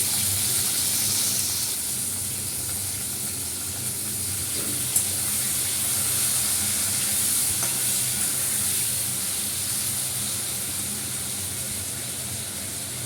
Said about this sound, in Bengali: টমেটোগুলো দিয়ে দিচ্ছি, নুনটা দিয়ে দিলাম